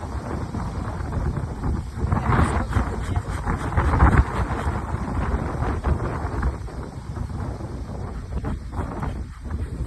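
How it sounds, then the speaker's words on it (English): Strong wind roars steadily across the microphone at an open beehive, a constant heavy buffeting rush with gusts swelling and easing throughout. "Oh, really windy."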